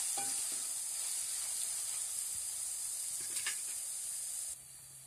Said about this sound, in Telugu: అల్లం పేస్ట్ వేస్తున్నాను నేను ఇందులో